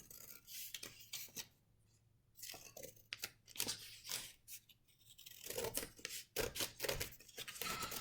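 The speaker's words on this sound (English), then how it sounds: "we're going to cut a little window in this" Scissors cutting through folded paper, a series of close, quiet snips and crisp rustles with short pauses between cuts, no talking.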